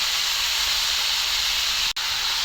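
Half a kilo of meat hitting hot spiced oil in a pan, a loud continuous sizzle and hiss held throughout with one brief break near the end, close by and without talk.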